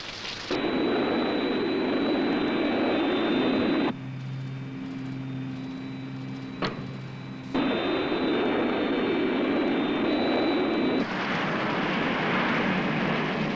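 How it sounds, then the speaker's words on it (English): Loud aircraft engines roar in sustained bursts, cutting out and resuming, with a high whine over a heavy rushing drone. "Hey, did you hear those engines, Eddie?"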